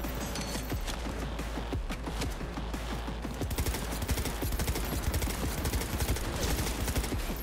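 Rapid automatic gunfire rattles in Cyberpunk 2077 during a firefight, dense bursts of shots growing busier and heavier in the second half, steady and close.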